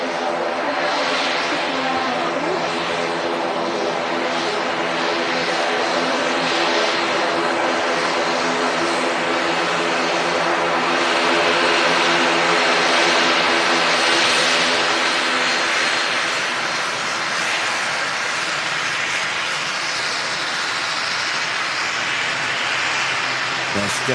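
Loganair ATR 72 turboprop airliner at Manchester Airport after landing on runway 23 right, a loud, sustained propeller drone swelling slightly mid-way, heard under the talk of a spotter.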